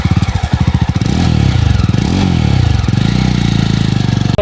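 Jawa 42 BS6 motorcycle engine on an off-road section, loud and close, with a thumping single-cylinder pulse that starts uneven, then rises into steady revving as the bike pulls away.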